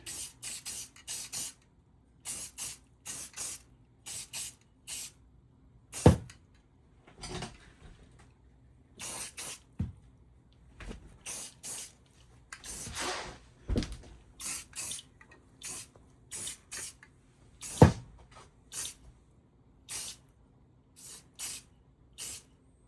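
Light single coat of spray paint applied to an antique Airline Model 62-228 radio's transformer, heard as many short hissing spray bursts in irregular rhythm, close and moderately loud, with small clunks between passes.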